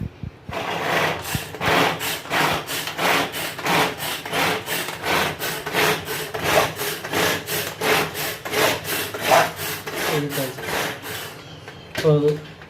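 Soya and coriander stems are chopped in a kitchen grinder, making a rapid series of rhythmic whirring, rasping bursts that repeat steadily and close by for over twelve seconds.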